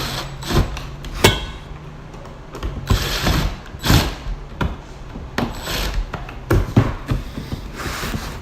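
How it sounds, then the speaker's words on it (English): Screws driven into a Meade's Value Line base cabinet drawer box during assembly, heard as a series of close mechanical clicks and short ratcheting bursts with brief pauses between turns. "Tighten your screws."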